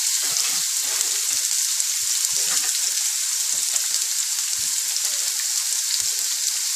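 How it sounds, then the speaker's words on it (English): Onions frying in hot oil with ginger and garlic for a Punjabi black-eyed bean curry, a steady loud sizzle that holds evenly throughout with faint scattered crackles and no talking. "My ginger and garlic is done, so I am going to put onions in this."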